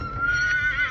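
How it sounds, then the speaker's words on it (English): A ranch horse gives a short, close neigh, a high, quavering whinny lasting under a second with no other sounds around it. "The horses on the ranch often just stare toward the small cemetery as well."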